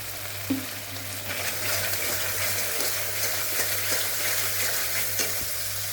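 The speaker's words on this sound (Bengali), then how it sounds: "মশলাটাকে আমি এখন একটু ভেজে নিই" Spice masala with turmeric and a little sugar fries in oil for a fennel-flavoured pointed gourd dish, a continuous close sizzle with soft stirring clicks over a low background hum.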